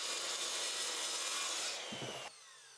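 A circular saw whines steadily at high speed as it bites through wood, the rough cutting noise running for two seconds before dropping off sharply.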